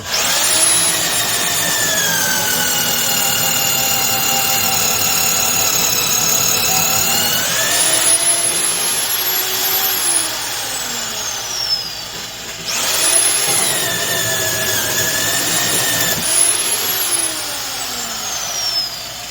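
A corded 1/2-inch drill boring deep holes runs steadily with a high, sustained whine and harmonic tones, pitch shifting as it bites into material, with brief pauses around the middle.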